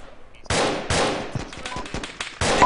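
Gunfire from Arma 2 in a Takistan combat setting: several loud, sharp shots and short bursts in irregular rhythm, some close and some more distant, after a brief quiet start.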